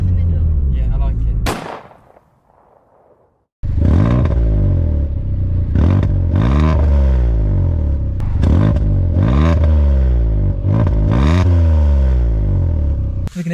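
A Citroen C1 fitted with a loud aftermarket exhaust revs hard in repeated rising and falling bursts, loud and close, with a short quiet gap early on before the revving resumes.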